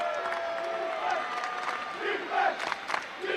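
Crowd at a men's college basketball CSAC semi-final standing and cheering late in a close game, a loud sustained roar with shouts rising and falling, close and filling the whole moment.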